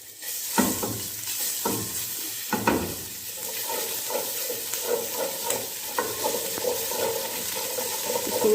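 Garlic and ginger sautéing in oil for chicken soup, a steady close sizzle broken by several stirring scrapes and knocks of a spoon against the pot.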